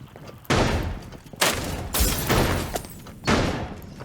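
Gunfire in the Rainbow Six Siege video game comes as four loud, close bursts of heavy shots with sharp thuds between them, and there is no talk.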